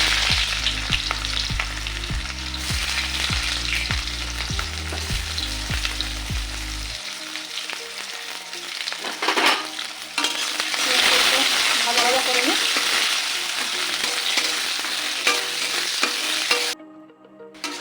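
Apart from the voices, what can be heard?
chopped onions frying and being stirred in a pan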